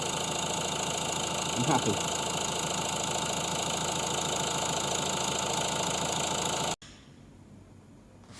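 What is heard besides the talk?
Astra J 1.6 CDTi diesel engine idling after timing chain replacement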